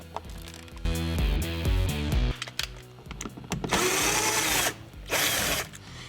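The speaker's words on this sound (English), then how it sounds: "use a screwdriver to power drill to pull them out quickly" A power drill backs screws out of a 2000-2006 BMW E46 325i/330i door panel, with several short whirring bursts, stops and clicks, then two longer high-pitched spins, loud and close.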